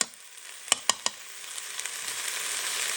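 Chorizo frying in a pan for Mexican rice, a steady close sizzle with a few sharp clicks of a utensil near the start, no talking.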